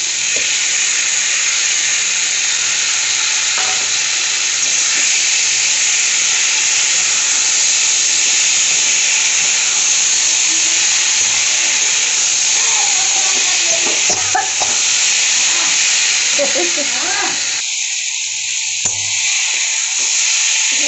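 Poppy seeds, mustard seeds, dry chilli, bay leaf and ginger paste fry in a pan with a constant loud, close sizzling hiss and faint scraping stirs, and the hiss thins toward the end.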